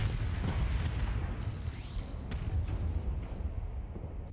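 Sixteen Atropos torpedoes from Trident bombers strike in the space combat game Starsector, producing a continuous rumbling barrage of deep explosions with sharp bursts layered on top, loud and sustained.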